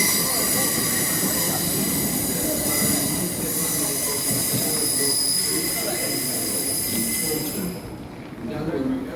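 A passenger train bound for Cardiff from London Paddington passes through Newport station in South Wales, a steady loud rumble with high wheel squeal and rail noise that eases off near the end.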